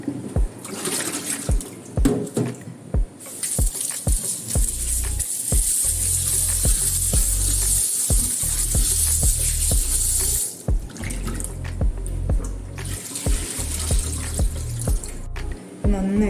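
Carrots being washed under a running kitchen tap, with a steady stream of water splashing into a sink, broken by clattering handling knocks and brief pauses in the flow.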